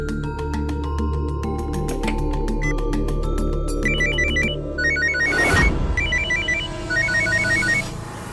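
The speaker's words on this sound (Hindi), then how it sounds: "लैंडलाइन से अपने ही फोन पे फोन करते हैं।" A mobile phone rings loudly nearby after being called from a landline, a repeating electronic ringtone of rapid chiming pulses over a layered melodic background, with a sharp burst midway; no speech.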